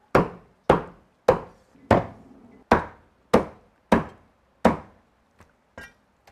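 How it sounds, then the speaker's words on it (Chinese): A cleaver chops a chicken into small pieces on a board. Eight sharp, loud, evenly spaced whacks ring out about every 0.6 seconds, each decaying quickly, followed by a few softer taps. "把那个鸡给它砍成小坨坨"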